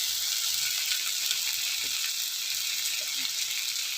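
Spice paste for a fish curry fries in hot oil, giving a soft, steady sizzle with faint stirring ticks underneath; quiet and continuous, no voices.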